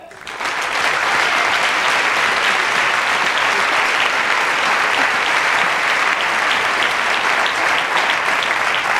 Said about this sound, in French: Je vous demande d'applaudir, sans plus tarder, Lise Moret!